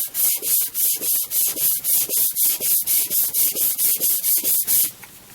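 A leather harness knife is sharpened by hand on sandpaper, giving a steady series of about twenty rhythmic, close and loud raspy strokes that stop abruptly at the end.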